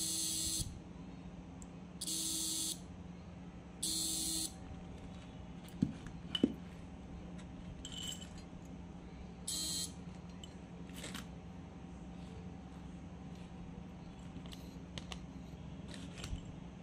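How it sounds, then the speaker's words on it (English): A relay in a flasher circuit with a flyback diode buzzes in short, regular bursts of a few seconds each, spaced a second or two apart, over a steady low electrical hum with occasional small clicks. "When I am connecting the power supply, please listen to the sound of the relay carefully"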